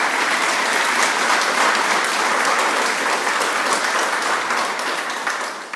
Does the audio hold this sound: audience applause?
yes